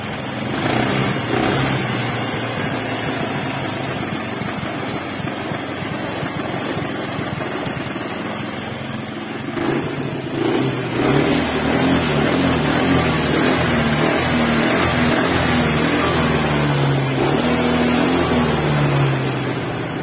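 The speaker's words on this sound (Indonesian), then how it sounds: "Oke, dia hidup ya. Vario menggunakan CDI Yamaha Mio ya," A Honda Vario scooter engine running on a Yamaha Mio Sporty CDI, a steady close idle with a busy mechanical chatter that turns rougher and fuller partway through, sounding alone without voices.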